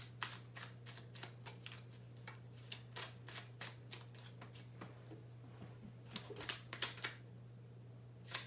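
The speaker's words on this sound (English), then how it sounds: "Need a little reshuffle." Tarot cards are reshuffled by hand in quick riffling bursts and soft flicks, close and fairly quiet over a steady low hum, with no voices.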